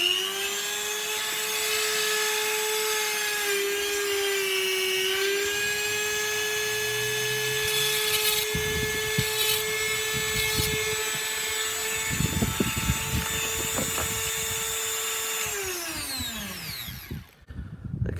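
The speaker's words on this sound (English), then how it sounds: "Let's turn it on and quickly do a little deburr, just to show that the flexible attachment works as you'd expect." A mini electric rotary grinder on a flexible shaft attachment deburrs metal with a loud, high steady whine and intermittent grinding contact, then the motor winds down and stops near the end.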